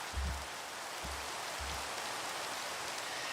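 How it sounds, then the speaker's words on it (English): Soft, steady rain hiss from Minecraft throughout, even and continuous, with three low dull thumps near the start. "It's raining and I don't have a fishing pole yet here."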